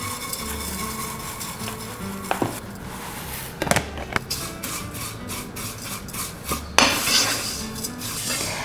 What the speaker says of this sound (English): I'll add in my vermicelli, and I'm just going to saute it until it has a golden brown color.